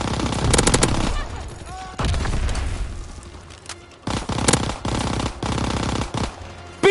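Sustained automatic gunfire in the World War II shooter Call of Duty WWII, loud, rapid bursts from close by with brief gaps between volleys and sharp single shots mixed in.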